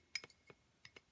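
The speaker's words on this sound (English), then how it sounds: "I apologize for the glass sounds." Glass clinking while a big makeup palette is handled: several small sharp clinks and taps in quick succession, faint and close in an otherwise quiet room.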